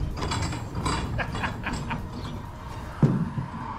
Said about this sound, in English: This is how I raise the ramp door.